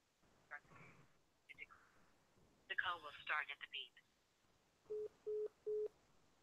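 Telephone sounds on a live college football talk show as a call is placed, ending in three even, spaced dial tones after a stretch of talk and other brief tones.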